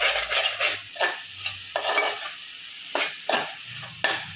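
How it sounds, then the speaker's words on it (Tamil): Masala sautéing in oil in a pan for a Vanjaram fish curry (meen kuzhambu), a steady sizzle broken by repeated scraping stirs of a spoon about once a second, close and fairly loud, with no talking. "இந்த அளவு வதக்கணும் எவ்வளோ தூரம் நம்ம வதக்குறோமோ அது வரைக்கும் குழம்பு நல்லாயிருக்கும்"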